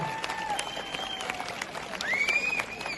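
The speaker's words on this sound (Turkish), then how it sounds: "Teşekkür ediyorum ve büyük bir alkış." Applause from an audience at an outdoor cultural festival, a steady wash of clapping with crowd noise and faint voices mixed in, plus some whistling tones rising and falling.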